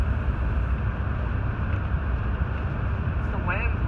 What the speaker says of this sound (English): It's the wind. The wind's the worst.